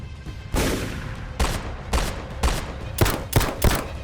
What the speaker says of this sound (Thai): เสียงปืนดังแสบเก้าหู